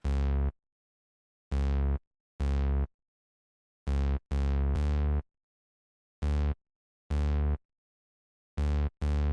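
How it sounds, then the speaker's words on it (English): Deep synth bass notes sound in short bursts, some single and some in quick pairs, separated by silences in an uneven rhythm. "The bass sounds like this."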